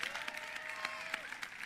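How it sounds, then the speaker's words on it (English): Audience applause at an evening session of the NYR 2025 gathering: a steady, faint wash of many hands clapping throughout, with a thin sustained tone running beneath it. "Can you give them a hand of applause for bringing you to NYR?"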